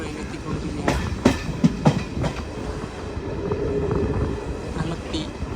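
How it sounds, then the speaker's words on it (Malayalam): Jan Shatabdi Express train pulling into Alappuzha railway station, with steady rumbling rail noise, a few sharp clanks and wheel knocks early on, and faint background voices. "ആലപ്പുഴ റെയിൽവേ സ്റ്റേഷനിലേക്ക് ഇതാ ട്രെയിൻ എത്തിക്കൊണ്ടിരിക്കുകയാണ്"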